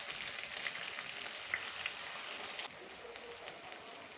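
Chopped onions fry in oil for chicken biryani, giving off a soft, continuous hiss and crackle, fairly quiet and even, with a few faint pops.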